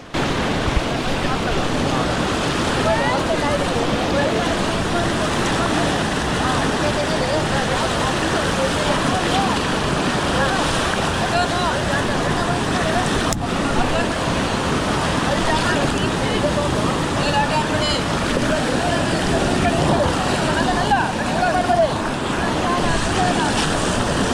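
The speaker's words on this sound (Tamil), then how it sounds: "இழுத்துட்டே போகுது தண்ணி." Fast, deep monsoon river current on the Netravathi peak trek, a constant loud rushing wash of water with wind buffeting the microphone throughout, no break in the roar.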